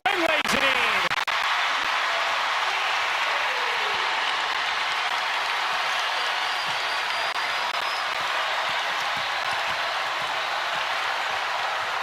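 Basketball arena crowd during a women's college game between UConn and South Carolina roars steadily after a steal and layup, a dense sustained cheer with applause that stays loud and even throughout.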